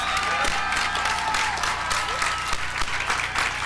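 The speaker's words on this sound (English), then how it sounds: "Let's give them another round of applause as they return to their seats." A crowd claps continuously with scattered cheers at a high school graduation ceremony, a steady dense applause over a faint low musical hum.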